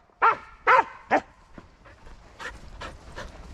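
An Australian Shepherd at a dog park gives three sharp, loud barks in quick succession, followed by softer whimpering, yelping sounds and panting.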